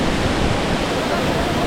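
The Siddheshwar waterfall near Alibag, a 300-foot cascade, roars as a loud, steady broadband rush of falling water heard from the top of the falls.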